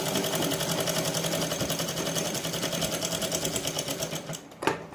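A sewing machine stitches a suit shoulder seam in a fast, even mechanical chatter, close and steady, then stops with a single sharp clack near the end.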